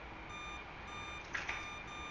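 Warning tone in an F-4 Phantom cockpit in the DCS flight simulator, a faint, steady electronic beep repeating in regular on-off pulses over a low engine hum, with a couple of soft clicks.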